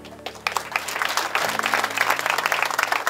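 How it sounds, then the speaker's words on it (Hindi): Loud applause from a crowd at an election campaign rally in Samalkha, Haryana, building quickly and holding as dense, steady clapping throughout. "जो आपने इतनी जोर से ताली बजाई"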